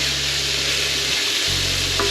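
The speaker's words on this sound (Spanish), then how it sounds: "Vamos mezclando la carne" Chopped meat and leek stirred in a hot frying pan, giving a steady close sizzle that dips briefly and then resumes.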